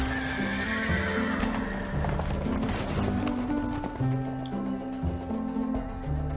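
Horses neigh loudly and gallop with rapid clip-clop hoofbeats in the video game A Way Out, the whinnies rising over steady thudding hooves and a constant music bed.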